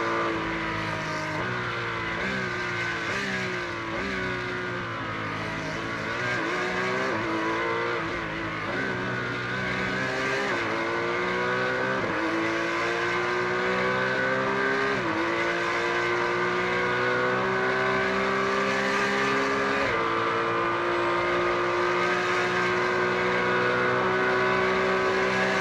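Porsche race car engines scream at speed in a racing video game at the Imola circuit. The pitch climbs repeatedly through gear shifts and then holds a loud sustained wail on the straight, with no voices.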